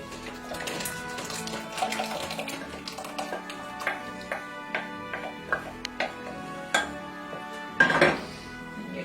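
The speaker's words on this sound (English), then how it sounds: "we're actually going to pour this through to strain it" Liquid mixture poured through a cheesecloth-lined colander, with close, clattering clinks of dishes and utensils and a light trickle of liquid running underneath, over about nine seconds.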